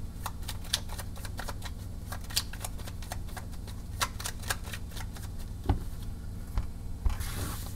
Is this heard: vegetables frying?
no